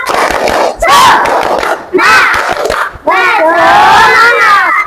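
An elementary school classroom of children does a group spirit clap and chant, with three bursts of loud rhythmic clapping and shouted chanting separated by short pauses, close and energetic.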